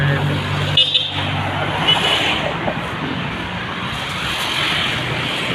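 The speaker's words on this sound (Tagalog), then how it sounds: "Sasakyan." Vehicle passing along a barangay village road, a loud broadband engine and road rumble sweeping by close and steady, with no talking heard.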